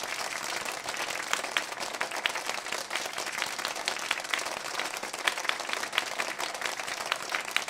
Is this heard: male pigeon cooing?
no